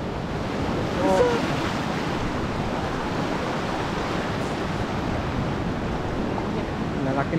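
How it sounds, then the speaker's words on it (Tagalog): Large ocean waves breaking on a shore while sea grapes are harvested, a continuous rolling roar mixed with wind buffeting the microphone, steady and loud throughout. "Lalaki ng alon."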